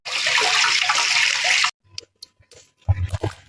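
Raw mango pieces with the stones removed are washed in clean water, a steady, loud rush of running water for under two seconds, then cuts off to a few light clatters and splashes.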